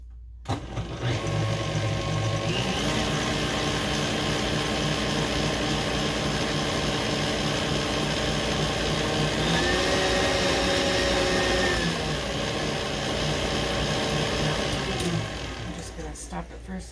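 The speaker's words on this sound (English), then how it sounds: "I'm going to whisk that up until it is fully combined" Electric mixer whisking butter and milk chocolate into cake batter, a continuous loud motor whine with a shifting pitch as the beaters work, tapering slightly toward the end.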